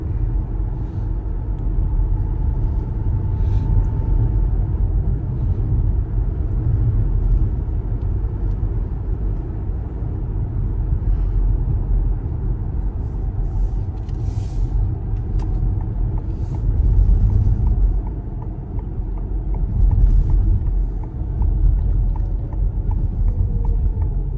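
Steady low road rumble and tire noise from a Ford Mustang Mach-E electric car driving, constant and close, with no engine revving and no voices.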